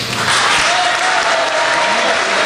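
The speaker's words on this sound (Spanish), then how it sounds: "palmas para Daniel Urresti y algunos gritos aquí en el Salón Dorado" Dense, steady applause fills the Salón Dorado for Daniel Urresti, many hands clapping at once with scattered shouts and voices mixed into the loud, continuous wash.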